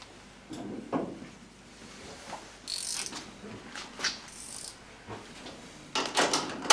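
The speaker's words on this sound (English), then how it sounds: "you snug up the bolts to secure the height adjustment on both sides" A ratchet snugs up bolts on a SmartBoxx tailgate mount, giving faint, close clicking and metallic rasps in short irregular bursts over a quiet background.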